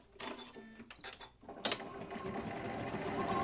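A Janome sewing machine with a size 14 needle stitches through thick layers of fabric, starting with a few short clicks and bursts before settling into a steady, rising run of rapid stitching.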